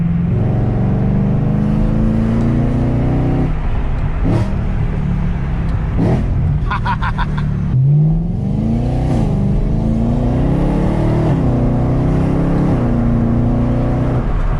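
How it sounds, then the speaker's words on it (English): A modded E92 BMW M3 revs and climbs through gears, its mild exhaust drone rising in pitch with brief dips at shifts, loud and close throughout. "This is a pretty mild exhaust."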